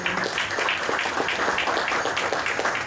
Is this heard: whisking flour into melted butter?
no